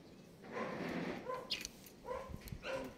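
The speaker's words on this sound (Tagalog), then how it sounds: "Ingay no, daming aso rito." Many dogs bark and yip a few times, fairly faint and at a distance, with some whimpering between the barks.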